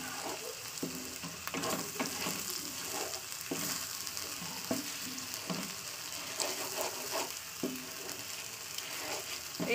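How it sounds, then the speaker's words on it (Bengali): Spice paste frying in a pan for curry, a continuous close sizzle with crackles and occasional stirring scrapes throughout. "তো হয়ে গেছে আমার মশলা কষানো"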